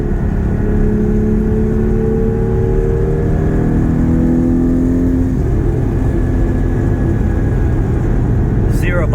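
Porsche 981 GT4 engine revving hard, a loud continuous roar that climbs in pitch through several rising sweeps and drops back, heard close up from the cabin under road and wind noise.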